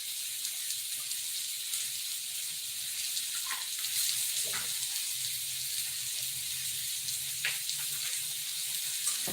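Nashville hot chicken burgers fry in a pan, a steady dense sizzle and hiss close up, with a few faint clinks and no talking.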